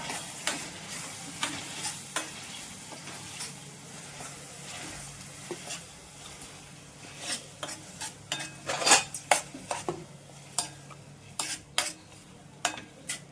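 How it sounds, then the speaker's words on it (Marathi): Onions and tomatoes sauté in a pan for pav bhaji while a spoon stirs them, with a low sizzle under irregular metallic scrapes and clinks that grow busier and louder toward the end. "सगळं झाला की मिक्स करायचं, चांगलं परतवून घ्यायचं."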